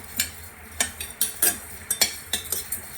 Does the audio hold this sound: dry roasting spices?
yes